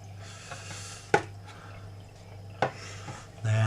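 Defrosted bloodworms and water poured into a fish tank: a brief splash at the very end, after two faint taps over a steady low hum.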